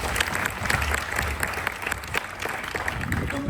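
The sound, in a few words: audience applause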